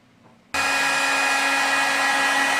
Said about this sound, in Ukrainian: беремо звичайний будівельний фен і гріємо. Гріємо дуже добре.